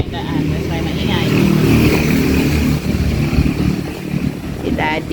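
Road traffic passes outside a small store, a motorcycle engine rising and fading nearby under a continuous rumble, with voices talking close over the noise.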